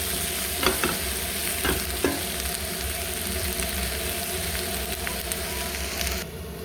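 Chopped leeks and onions sizzle steadily in a frying pan on the stove, with a few sharp scraping stirs of a utensil against the pan over a constant frying hiss.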